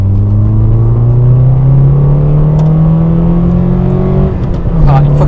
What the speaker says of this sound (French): une fois que c'est libéré, l'échappement, c'est tellement agréable